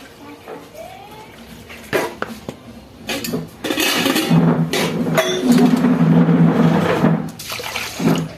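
Dishes, pots and pans clatter and scrape in a home kitchen with running water, a few sharp clinks early on, then louder sustained washing noise, with a voice speaking faintly at times.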